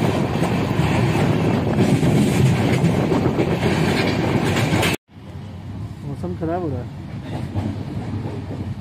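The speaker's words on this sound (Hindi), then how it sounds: "सो ट्रेन हमारी पास कर रही काफ़ी स्पीड में" A Jan Shatabdi Express speeds through the Jharkhand countryside with a loud, steady rushing roar and rattle that cuts off abruptly. A softer rumble of the moving train follows, with someone talking over it.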